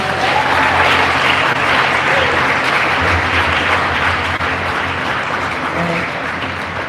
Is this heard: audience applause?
yes